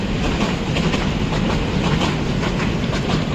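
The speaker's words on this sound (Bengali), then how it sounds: "একখান লোকাল ট্রেন গেল।" Loud, continuous rumble and rhythmic clickety-clack of a local train's carriages rolling past close by, steady throughout with no voices.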